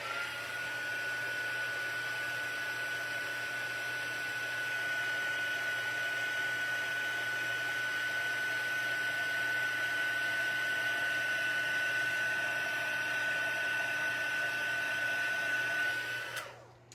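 A heat gun blows steadily for embossing powder on a card, a constant airy whooshing drone with a thin whine, held at even loudness for about sixteen seconds before switching off abruptly.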